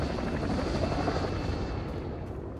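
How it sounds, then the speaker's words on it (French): A helicopter in the tactical shooter game Caliber flies close, its rotor thumping in a steady throbbing drone over an even engine whine, with no voices. "Cherchez l'hélico"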